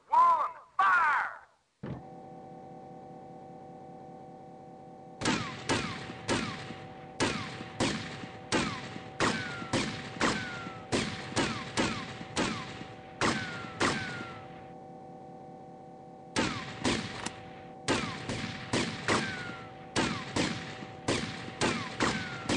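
Repeated gunfire in GTA: Vice City, with two short bursts followed by long stretches of rapid, evenly spaced shots over a steady low hum, fairly loud and close.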